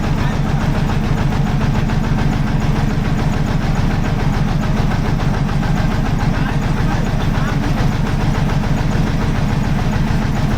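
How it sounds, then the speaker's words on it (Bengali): An engine-powered passenger boat running at dusk, its motor giving a loud, steady, close drone throughout without a break. "আমরা ইঞ্জিন চালিত নৌকায় উঠে পড়লাম সওয়ারি হতে"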